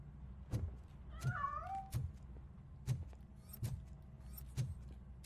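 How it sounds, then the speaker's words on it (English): A cat meows once in the video game Robocop Rogue City, a short wavering cry among repeated heavy thuds and clanks, faint and somewhat distant. "That cat must be hiding inside."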